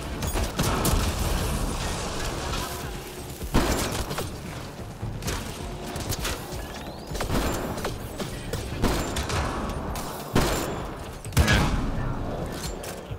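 Gunfire in the sci-fi shooter video game Mass Effect Andromeda, with bursts of shots and impacts amid dense, noisy combat sound, loud and continuous with occasional sharper booms.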